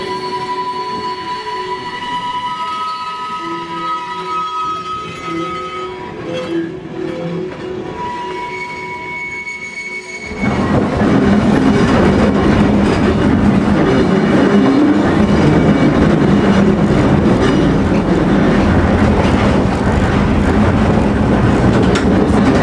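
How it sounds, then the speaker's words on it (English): Two steel interurban railcars enter the Alto Tunnel, their wheels giving sustained high squeals before a loud, close, rumbling roar takes over as the cars run on into the tunnel. "it was still very tight as these 2 steel cars enter the south portal"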